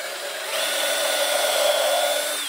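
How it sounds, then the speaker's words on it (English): A power drill bores pilot holes with a 5/32 bit for nailing timber on a firewood drying shed, a steady whining motor spinning up and running continuously for about two seconds, close and fairly loud with no talk. "I'm going to pre-drill the pilot holes for them. So I've got, this is a 5/32 drill"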